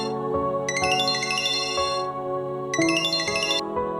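A phone rings with a repeating bright electronic melody, two bursts of chiming tones over a steady backing tune, moderately loud and uninterrupted by voices.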